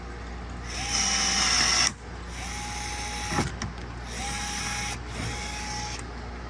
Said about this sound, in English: you're going to go ahead and match drill the rest of these 3 holes